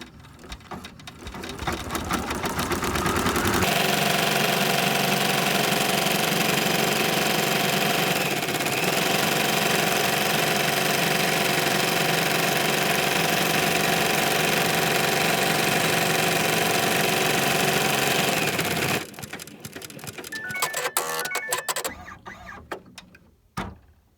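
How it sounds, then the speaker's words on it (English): Running a zigzag tack-down stitch on knit appliqué fabric, a sewing machine hums in one long, steady, close run of about fifteen seconds, preceded and followed by softer handling clicks and rustles. "It's a zigzag stitch."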